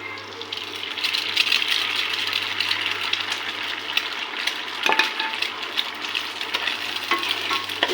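An egg frying with reddened onion and chili in a pan, heard as a constant close sizzle with frequent scraping and rattling stirs and a steady low hum underneath, with no speech.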